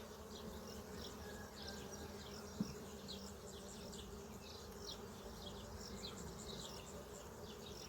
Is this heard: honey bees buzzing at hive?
yes